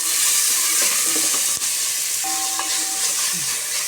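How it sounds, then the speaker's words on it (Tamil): Onions sautéing in a pan for a tamarind chickpea curry, a steady loud sizzle with a spatula stirring and scraping, one sharp knock midway and a brief tonal whine near the end. "வெங்காயம் வதங்கிட்டு இருக்கு பாருங்கள்"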